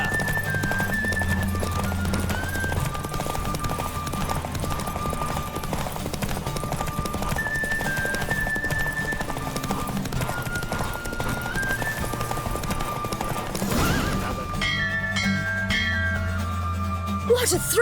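Rhythmic hoofbeats of a galloping horse in The Witcher 3 video game drive along steadily, mixed with game music and occasional whinnies, ending in a brief burst of noise.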